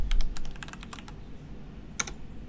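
Typing a terminal command on a computer keyboard, a quick run of crisp close keystrokes, then a pause and a final double tap like pressing enter.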